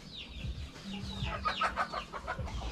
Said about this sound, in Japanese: オスの鶏の喧嘩